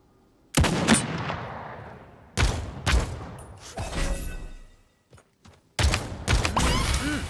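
Gunfire in the battle royale video game Realm Royale: several loud, sharp bursts of shots with echoing tails, separated by short quiet gaps, alone without voices.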